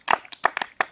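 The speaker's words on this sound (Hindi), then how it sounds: "मोदी के लिए ताली बजाओ रे तुम।" Schoolchildren in a classroom clapping, five quick, uneven bursts of hand claps close by with no talk.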